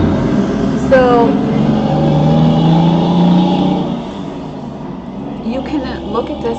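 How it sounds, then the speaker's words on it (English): A truck drives past outdoors, a broad engine rumble that swells and fades over several seconds while a person talks over it. "There's a truck that's about to go by."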